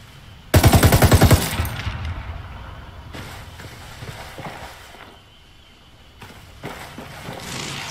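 A rapid burst of automatic gunfire from a video game rattles out loud and close for about a second, followed by fainter shuffling, a few distant pops and scattered movement sounds.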